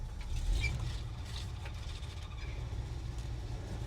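Wheel noise from a 1966 Jeep Gladiator pickup on its first drive after decades off the road, with its wheels badly out of alignment: a faint, continuous mechanical rumble with irregular scraping and clicking over a low drone.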